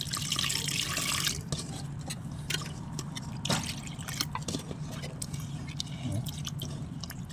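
Water splashes steadily into a pot of pepper rasam, a loud pour in the first second giving way to softer trickling and stirring sounds, with no talk.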